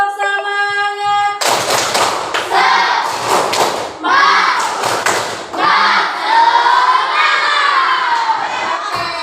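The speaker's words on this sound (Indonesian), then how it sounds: "Biar lebih semangat lagi, tepuk semangat dulu" A school class does a rhythmic spirit clap, loud groups of claps and thumps in patterned bursts mixed with children chanting and shouting along, after a short tonal passage at the start.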